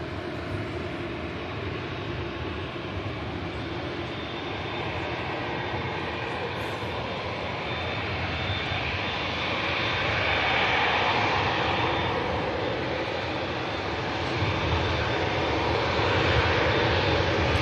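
A Saudia Boeing 787 Dreamliner at Manchester Airport produces a broad, sustained jet engine roar, distant but swelling gradually louder, with a commentator talking over it.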